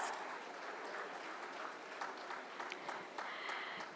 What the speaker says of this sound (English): let's give a big round of applause to all our finalists who are in the room with us